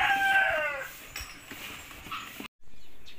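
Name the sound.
bantam and wild junglefowl hybrid chicken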